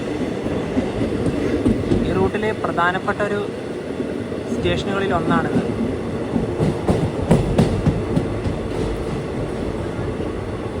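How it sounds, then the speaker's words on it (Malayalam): An express train in a general class carriage rolls into Arsikere Junction, with a steady rumble and rail clatter throughout while someone talks over the noise. "ട്രെയിൻ ഇപ്പോൾ അർസിക്കലെ ജംഗ്ഷനിലേക്ക് ഇതാ എത്തുകയാണ്"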